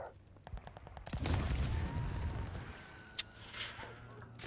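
Shotgun blasts in Call of Duty Vanguard multiplayer, a few sharp reports among quieter game noise and rapid clicks, faint overall.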